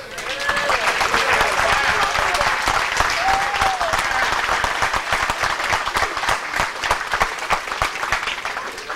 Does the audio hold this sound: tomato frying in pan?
no